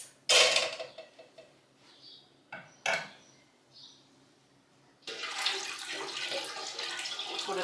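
Rennet diluted in water is poured into a pot of milk and stirred hard, with a splash followed by a steady sloshing swirl of liquid and some clinks against the pot.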